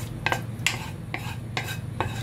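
Shepherd's pie filling being scraped and spooned from a cooking pot into a baking pan, a few distinct scraping stirs spaced about half a second apart over a low steady hum.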